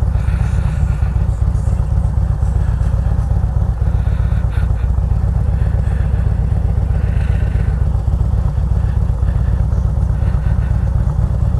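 A weak-starting motor vehicle engine idles steadily after a hard crank, a constant low rumble with light mechanical clatter, close and loud throughout with no talking.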